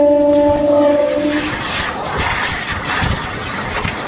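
Secunderabad–Visakhapatnam Garib Rath Express passing at speed, opening with a sustained two-second horn blast, then a loud rushing rumble of wheels and coaches close by.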